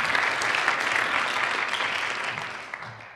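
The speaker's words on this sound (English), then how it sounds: "Give her a round of applause, yeah." A crowd claps at a Kansas City startup meetup, a full and continuous wash of applause that gradually tapers off over about three seconds.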